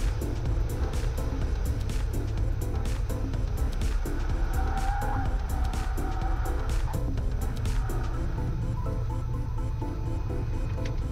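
A small airplane's engine drones loud and steady throughout during landing pattern work on an uncontrolled field, its broadband roar unbroken for the full stretch with no voices.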